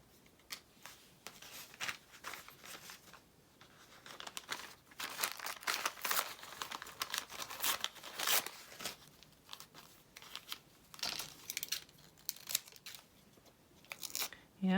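Mulberry paper being crinkled and torn for an altered craft book, a steady run of close, dry rustling, crackling and ripping bursts that thicken in the middle and continue to the end.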